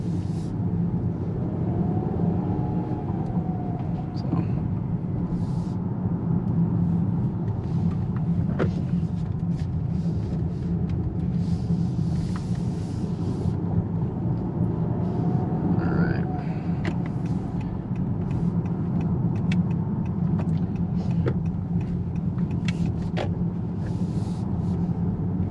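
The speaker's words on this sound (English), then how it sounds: "there's really not much of an exhaust note" A 2018-or-later Honda Accord with a 1.5 or 2.0 engine idles steadily, the quiet exhaust giving only a low, even rumble and hum that continues without change throughout.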